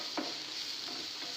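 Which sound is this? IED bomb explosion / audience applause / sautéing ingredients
sautéing ingredients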